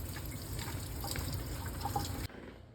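Water runs steadily through an RO filter system, rinsing refined gold off alcohol residue, a continuous close rushing and trickling flow that cuts off abruptly near the end, leaving near silence.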